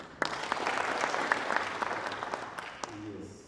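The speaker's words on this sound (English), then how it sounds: "let's clap for him." At an agricultural extension symposium, an audience claps in a moderate, scattered burst that fades toward the end as a voice starts speaking underneath.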